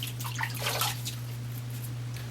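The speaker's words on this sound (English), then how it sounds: "I have some just hot tap water here in my sink I'm going to add to my face." Hot tap water splashing in a bathroom sink, with a few close irregular splashes and drips early on over a steady low electrical hum, then quieter.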